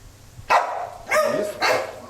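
A dog barks three times on command, sharp, close barks spaced about half a second apart over a low indoor background.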